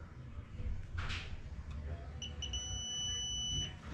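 A multimeter continuity test gives a high, steady electronic beep for about a second and a half after a couple of short chirps, over a low background hiss, while boiler wiring is checked.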